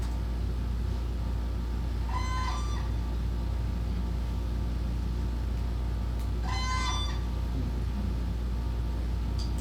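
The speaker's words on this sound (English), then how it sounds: "So I'll go ahead and play you their guard call now." Two loud, harsh bugling guard calls from a whooping crane several seconds apart, heard over a constant low hum.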